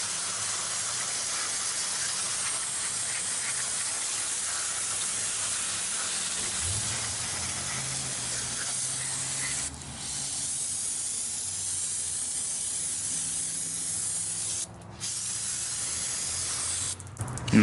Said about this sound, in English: Spray them down with brake cleaner.